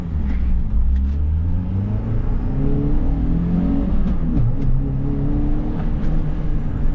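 Toyota Matrix XRS accelerating under throttle, a steady loud engine drone rising in pitch from inside the car, with no talking.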